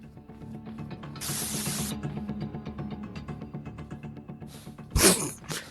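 A spray can hisses in the horror video game Granny, one loud steady burst lasting under a second, followed later by a sharp clattering impact over quiet game ambience.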